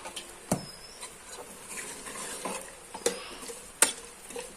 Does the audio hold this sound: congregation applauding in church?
no